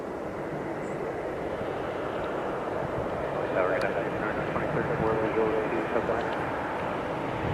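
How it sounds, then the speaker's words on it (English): A UPS Airbus A300 cargo jet arriving from Dallas Fort Worth at Philadelphia, its steady broadband engine roar rising slightly midway, with voices talking over it throughout. "this is a UPS A300 from Dallas Fort Worth."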